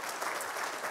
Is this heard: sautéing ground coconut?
no